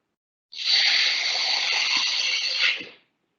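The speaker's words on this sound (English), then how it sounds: "I'm going to put some water, a little bit, then we can cover it." Water pours into a cooking pot of spicy beef stew in one steady gush of about two and a half seconds, close and fairly loud, with no talking.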